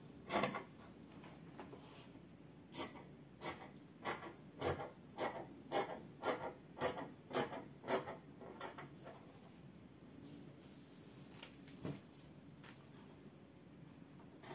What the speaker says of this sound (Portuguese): Já estou cortando os dois lados da frente, já que o tecido está dobrado.